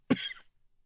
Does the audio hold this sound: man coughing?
yes